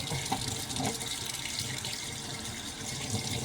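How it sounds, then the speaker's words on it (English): Tap water runs steadily into a sink while a spoon is being washed, a continuous close splashing stream with no break. "So, we gotta wash us a spoon for this."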